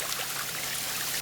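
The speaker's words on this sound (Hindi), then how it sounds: "तुम पहले केले के पेड़ों को पानी डालो।" Water pours steadily onto banana trees in a soft, continuous splashing stream, fairly close and alone, cutting off abruptly at the end.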